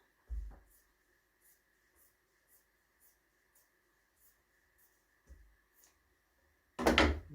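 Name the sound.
cutting fabric with scissors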